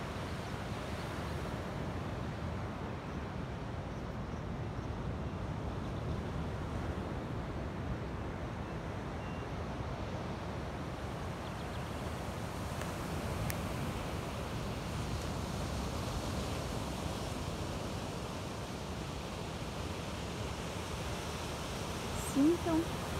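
At Praia da Silveira beach in Garopaba, Santa Catarina, sea waves wash steadily in a soft, distant, continuous surf hiss mixed with light wind, with faint voices underneath.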